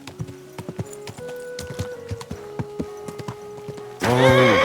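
A horse in Kingdom Come Deliverance II walks with crisp, irregular hoof clops, then lets out a loud, close whinny at the end.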